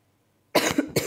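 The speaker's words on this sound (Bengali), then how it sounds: "আমার কাশিও বেড়ে যাচ্ছে।" A person coughs close up, a burst of two or three harsh coughs after a second of near silence, followed by one more short cough.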